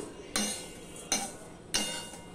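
Flattened rice (chire) frying in a pan over medium-low flame, stirred in three distinct scraping sweeps, each a sharp rustling scrape that fades, close and moderately loud.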